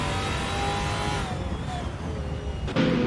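GT4 race cars lapping Laguna Seca in a racing video game, engines revving loudly and continuously, with a whining drone that rises and falls as the cars accelerate through the corners and a short sharp burst near the end.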